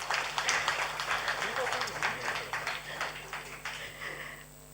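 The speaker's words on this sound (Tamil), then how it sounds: "ஸோ இன்னும் பலமாக கைத்தட்டினா அதுதான் நம்மளோட விஷஸ் ஃபார் ஸ்ரீராம்குமார்" Crowd applause ripples through an auditorium at a Carnatic music celebration marking Dikshitar's 250th anniversary, greeting violinist Sriramkumar as he comes on stage. Steady, dense clapping at moderate volume runs throughout, with a speaking voice over it.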